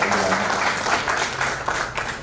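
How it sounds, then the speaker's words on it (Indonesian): An audience claps at a seminar session as the next presenter is welcomed, a steady burst of applause for just over two seconds at moderate volume, with a faint low hum underneath. "Silakan tepuk tangan dulu untuk"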